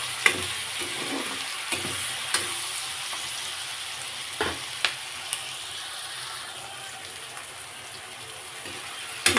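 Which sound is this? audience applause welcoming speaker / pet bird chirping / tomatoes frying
tomatoes frying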